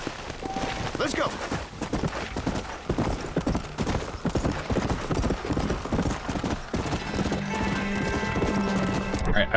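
Rhythmic hoofbeats of a horse galloping in the video game Red Dead Redemption: Undead Nightmare, fairly close, with music and game effects layered underneath and a steady hum toward the end.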